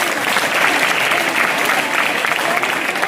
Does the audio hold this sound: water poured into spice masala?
no